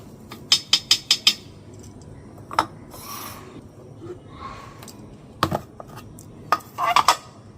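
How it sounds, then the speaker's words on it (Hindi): Metal temple utensils clink and clatter as they are washed, a quick run of sharp clanks, then scattered rubbing and scraping, and a few more bright clinks near the end. "कोई मंदिर के बर्तन धो रहा है"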